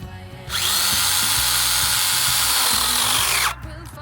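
A fully charged cordless mini chainsaw cuts through oak wood, its loud, steady high-pitched whine holding for about three seconds before cutting off abruptly, with quieter background noise before and after.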